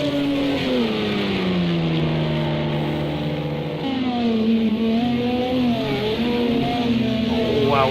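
A screaming Toyota race car engine at the Nürburgring in Project CARS 2, loud and sustained, its pitch sweeping down and back up through gear changes and revs, with a fainter second engine beneath.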